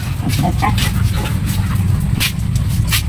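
Dogs yelp and whimper among a noisy, steady background rumble at a grocery store, with people talking close by.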